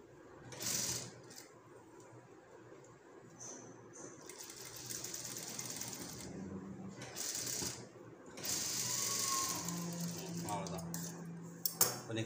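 A sewing machine stitches a churidar seam, running in steady bursts of close, continuous mechanical whirring with pauses between runs, with faint clinking in the background.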